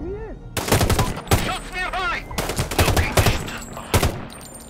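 Loud, close rifle and machine-gun bursts ring out in rapid succession during a firefight in the video game Sniper Ghost Warrior 3, with shouted voices between the shots.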